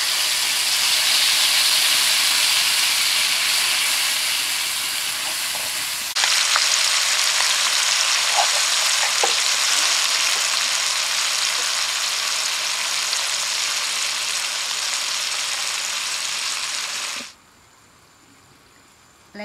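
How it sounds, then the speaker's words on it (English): Sambal hitting hot oil with a loud, steady sizzling hiss that jumps in intensity midway, with faint stirring clicks, before cutting off abruptly near the end. "Now we put the sambal inside the oil."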